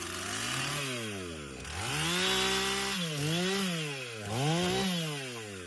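A chainsaw cutting wood on a small plot, its engine rising and falling through repeated throttle revs, loud and close, with strained pitch dips as the chain bites and no talk over it.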